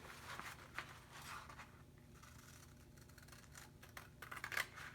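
Scissors snip through a paper craft piece in quick, quiet, close crisp cuts, with faint rustling and scraping of the paper between clusters of snips, no talking.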